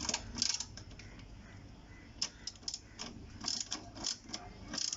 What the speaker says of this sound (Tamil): இதுக்கேற்ற ஸ்பேனர் போட்டு நீங்கள் வந்து கிளாக் வைஸ் டைரக்ஷனில் சுற்றணும்.